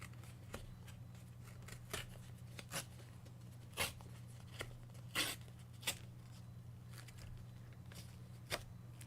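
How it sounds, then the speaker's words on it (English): Thick gel-printed paper torn off an envelope in several short, crisp rips and rustles, spread through a quiet room over a steady low hum. "I'm just going to tear it off."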